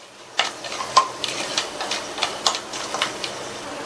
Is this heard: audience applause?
no